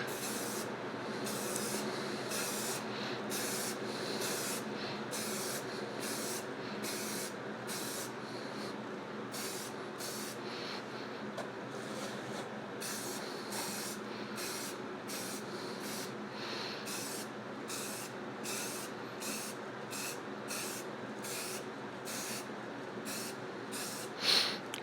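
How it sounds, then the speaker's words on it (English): Spray can applying paint in back-and-forth strokes, a close hissing spray broken into many short rhythmic bursts with brief pauses between passes, steady and fairly loud throughout. "All right, so here's spray painting. This is how you do it. Just doing strokes at a time, back and forth"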